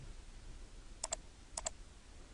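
Two quick double clicks of a computer mouse while saving a file, faint and crisp against a quiet room hum.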